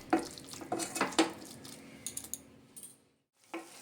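Chicken being stir-fried over a medium flame in a pan, with several sharp clanks and scrapes of a utensil against the metal in an irregular rhythm, a short silence, then another knock, all close and moderately quiet.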